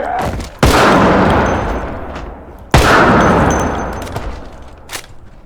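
Two sharp, loud gunshots from Project Zomboid, each a sudden blast followed by a long echoing tail that fills the following two seconds, fired down indoor hallways with no talking.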